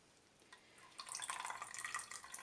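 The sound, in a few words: whey draining from homemade cheese curds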